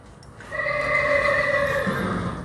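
A stock horse whinnies in one long, loud, wavering neigh close by, rising and trembling for about two seconds before trailing off, with no voices over it.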